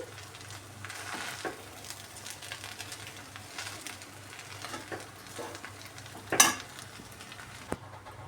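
Egg fried rice cooking in a covered pan on the stove, with a soft, quiet sizzle beneath faint stirring and scraping sounds and one sharp clink of a utensil near the end.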